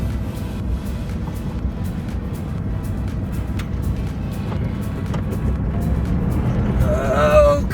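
Vehicle with tire chains on its two rear tires climbing a slope, its engine droning steadily and building slightly, with scattered sharp clinks over the rumble and a short voice near the end.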